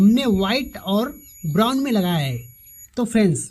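A multimeter gives a sustained, thin, high continuity beep while testing the wiring of a Splendor BS6 motorcycle sensor, running quietly beneath someone speaking Hindi.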